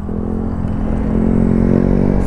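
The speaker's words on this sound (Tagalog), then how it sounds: "Ayun o, sa mga maangas na motor." A group of motorcycles with aggressive, modified setups riding past together on a road near Catalina Lake, Puerto Princesa, a loud close engine drone that holds and swells slightly, with no talk over it.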